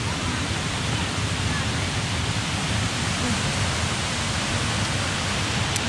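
Steady, loud rushing roar of Erawan Waterfall in Kanchanaburi, Thailand, heard up close as a continuous broadband wash with no breaks.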